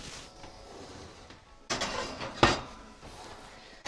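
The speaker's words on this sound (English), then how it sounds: "we're gonna pop it back into the oven" A baking dish clatters and thumps as it is slid back into a home oven, with a brief clatter near the middle and a sharp clink soon after, close and fairly quiet.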